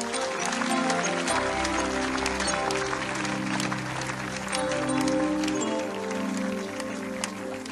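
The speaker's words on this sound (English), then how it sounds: "Give the Lord a clap offering." A crowd claps at an open-air church crusade at a university, a steady wash of clapping mixed with sustained music or voices underneath throughout.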